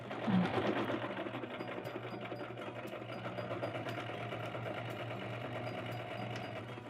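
A sewing machine stitches fabric for a basket in a steady, close mechanical whir with a rapid needle rhythm, running continuously with no talking.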